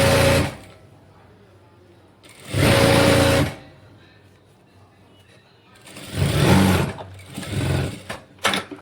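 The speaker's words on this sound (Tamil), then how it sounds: "இந்த ஏழு இன்ச் மார்க் பண்ண இடம் வரைக்கும் போயிட்டு ஒரு தையல் கொடுத்துக்கலாம்" A sewing machine runs in short bursts as it stitches a silk saree being made into an umbrella frock, a close motor whir with needle clatter, separated by quiet pauses and a few quicker stops near the end.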